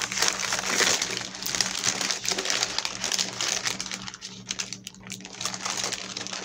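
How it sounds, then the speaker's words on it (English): Parchment paper crinkling and crumpling as a cake spread with fluffy cooked icing is rolled up, a steady rustle close by with no talking. "and we roll it back up with the parchment paper."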